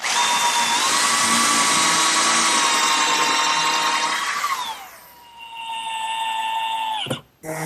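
A power drill whines at high speed for several seconds while boring a pocket hole at a 15-degree angle, slows and drops in pitch, then a brief clatter follows near the end.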